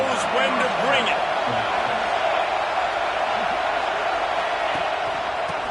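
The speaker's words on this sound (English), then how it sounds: "This crowd knows when to bring it." A football stadium crowd at a college football game keeps up a loud, steady roar and cheer throughout, dense and continuous with no breaks.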